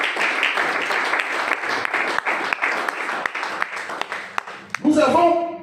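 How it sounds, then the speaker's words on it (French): A church congregation applauds for the Lord in a long run of loud, dense clapping with sharp individual claps standing out, ending in a brief swell of voices. "Est-ce qu'on peut acclamer pour le Seigneur?"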